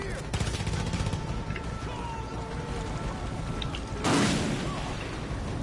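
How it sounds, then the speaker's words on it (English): Shotgun fire in the video game Far Cry: dense, noisy game audio with a heavy burst of blast noise near the end, with a voice partly audible in the mix. "take the shotgun. Shotguns are way easier."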